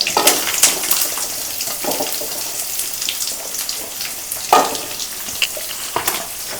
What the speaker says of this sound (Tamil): கொஞ்சம் வெங்காயம் சேர்த்துட்டு நல்லா வதக்கி விட்டுக்கிறோம்.